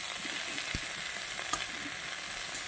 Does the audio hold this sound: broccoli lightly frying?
yes